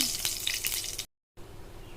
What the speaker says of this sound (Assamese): এতিয়া পিঁয়াজ অকণমান ৰঙচুৱা হৈ ভাজিম